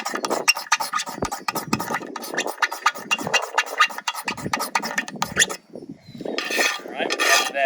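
A metal striker rasps magnesium off a Trekker fire starter in a quick run of sharp scrapes, then a pause and a few more strokes.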